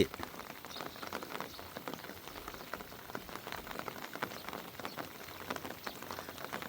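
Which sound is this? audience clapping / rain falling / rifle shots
rain falling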